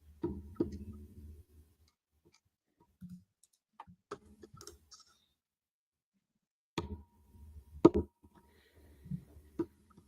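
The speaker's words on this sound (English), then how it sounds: "There's a clicking sound on a microphone." Sparse, faint clicks and small taps come from fidgeting with AirPods near a microphone, scattered in short clusters with long quiet gaps between them.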